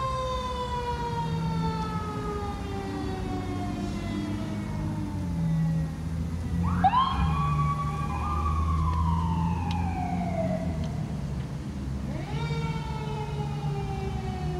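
A Florida airport fire rescue truck's siren wails with rising and falling sweeps over a steady low engine rumble, loud and continuous throughout, with a sharp upward whoop partway through and no talking.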